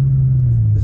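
A Bugatti Chiron Sport's engine gives a steady, deep low rumble while the car pulls into a house driveway, close and continuous with no voices over it.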